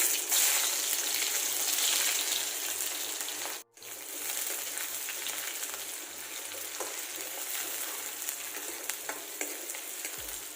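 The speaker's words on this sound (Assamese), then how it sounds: "তেল গৰম হৈ আহিছে আৰু ইয়াতে অকণমান দিম পাঁচফোৰণ" Steady, close sizzling of panch phoron (five-spice seeds) and chopped onion frying in hot oil, with stirring scrapes and crackles throughout and a brief pause partway through.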